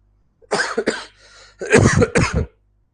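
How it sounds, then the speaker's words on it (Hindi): Two bursts of harsh coughing close to the mic, a couple of hacks, a short pause, then a longer fit. "ये खांसी नहीं जा रही है"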